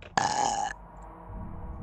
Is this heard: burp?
yes